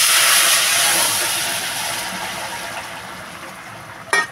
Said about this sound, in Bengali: এবারে বন্ধুরা আমি তরকারিটা ঢেলে দেবো